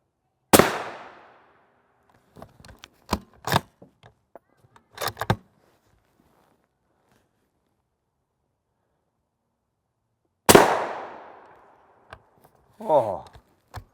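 Rifle shots from a SCAR 17 strike a Level IV armor plate on an outdoor range, two sharp, loud cracks about ten seconds apart, with scattered clinks and brief talk in between.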